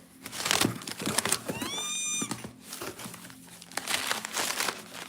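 Paper crinkling and rustling while books from a bulk order are unboxed, a close, busy texture of crumpling bursts with a brief tonal squeak in the middle, fairly loud throughout.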